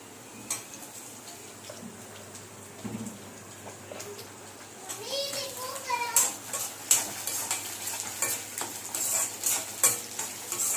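Finely chopped chili and tomato hitting a pan of nearly cooked onions, a quiet sizzle that swells louder and bubblier as they go in, with rhythmic spatula scrapes and clinks against the pan.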